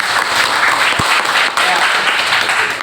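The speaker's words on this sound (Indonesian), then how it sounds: "Tepuk tangan dulu buat" Applause fills a classroom during group presentations at a university teaching-practice session, a dense, even wash of clapping that holds steady to the end with a voice faintly underneath.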